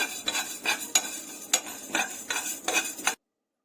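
Fenugreek seeds fry in a pan for a tomato chutney, stirred with a spoon in quick rhythmic scrapes about every half second over a light, close sizzle, then the sound stops abruptly.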